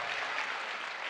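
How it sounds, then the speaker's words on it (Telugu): Faint, brief patter of audience clapping at a Telugu motivational stage event, thin and distant with no talking. "క్లాప్స్ కొట్టండి"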